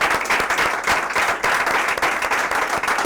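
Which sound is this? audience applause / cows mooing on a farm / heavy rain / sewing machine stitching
audience applause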